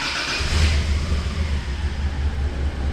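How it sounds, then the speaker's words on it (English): An 80 series Toyota Land Cruiser engine revs briefly then settles into a deep, rumbling run close by, throaty and loud, with no voices. "engine doesn't sound as bad as it used to"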